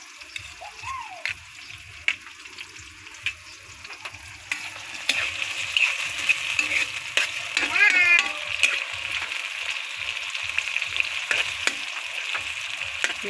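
Tomatoes and malunggay leaves frying in a pan for an egg omelet, with steady sizzling, clinks and stirring scrapes that grow louder and busier midway, no talk.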